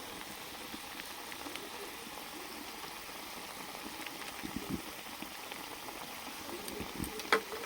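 Water at a rolling boil in a pan on the stove, a soft, steady bubbling hiss that stays low and even throughout with a few faint clicks near the end.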